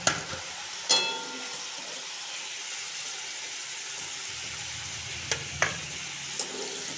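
Cauliflower frying in a generous amount of white oil in a wok, giving a steady soft sizzle and hiss with a few brief clinks of stirring.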